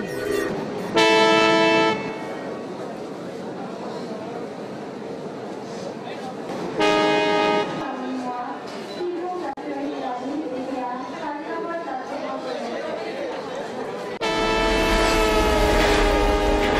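A train horn sounds in several bursts, a short blast near the start and another later, with the rumble of a train bound for Calcutta building toward the end, amid a busy railway setting with voices in the background.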